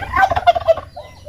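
A turkey gobbles in a loud, rapid warbling burst that trails off into a quieter call, close by with no talking.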